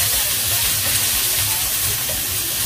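Onion frying in a hot wok for chow mein, a steady loud sizzling hiss that holds evenly throughout with no voices over it.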